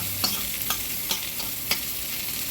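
Ginger and onions hiss and crackle as they are stir-fried in a pan, with several quick scraping strokes of a utensil, close and steady.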